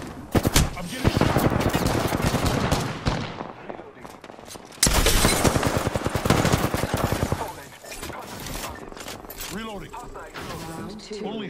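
Heavy automatic gunfire in a shooter video game hits the player, with rapid loud bursts in two long volleys and mechanical clatter. Game voice lines can be heard underneath, and the shooting eases toward the end.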